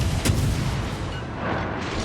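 Heavy naval gun salvos booming in World of Warships Legends, dense low rumbling blasts fired by a tier 7 destroyer in close succession, loud and continuous over about two seconds.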